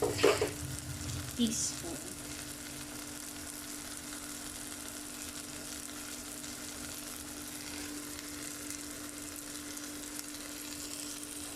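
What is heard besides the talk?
pav bhaji masala frying and stirring in a pan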